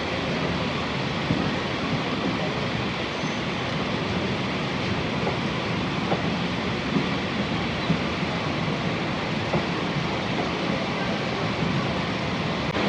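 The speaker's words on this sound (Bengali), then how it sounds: "আমাদের ট্রেন এই মুহূর্তে প্রবেশ করলো তার যাত্রাপথের শেষ স্টেশন যাদবপুর রেলওয়ে জংশন" A commuter train pulls into Joydebpur railway junction, a continuous broad rumble and rattle from inside the carriages that stays loud and steady throughout, with no clear pauses.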